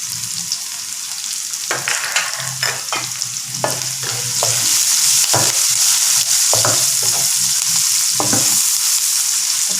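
Soybean sprouts stir-fried in a pan, seasoned with salt and turmeric: a steady close sizzle and frying hiss runs throughout, broken by repeated scraping and tossing strokes of the spatula, with the sizzle growing louder about halfway through.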